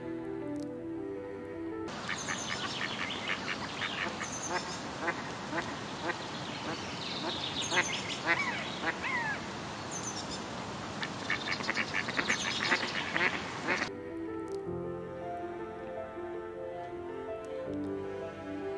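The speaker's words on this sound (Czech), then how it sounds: "po rybníce se proháněly kachny divoké" Many wild ducks quack busily on a pond at mid distance, overlapping calls coming in bursts over a steady outdoor background, with occasional honking notes.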